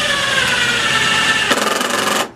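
A screw gun drives screws into a wooden concrete form, producing a loud, close, sustained whirring drone that shifts pitch midway and then cuts off abruptly at the end.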